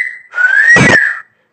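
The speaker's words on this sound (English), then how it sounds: "That's called a wolf whistle." A person gives one loud, close wolf whistle, a single bright tone that rises and then falls, with a breathy rush at its peak.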